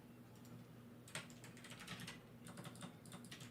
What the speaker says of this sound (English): Someone's furious on the keyboard right now.